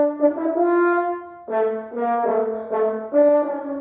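A solo French horn plays a quick run of tones with a few sustained notes between, measures from a piece, clear and close with no talking.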